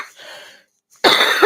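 A single sharp cough bursts out close by after a short moment of quiet, preceded by a faint breathy throat sound, indoors.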